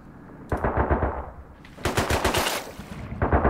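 Bursts of automatic gunfire from an enemy in a video game set on an oil rig and metro, loud rapid volleys in two main strings separated by a short pause, with a few more shots at the end.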